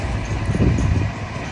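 A train passes farm fields with a low, continuous rumble and faint rattling, steady and fairly close, with no voices.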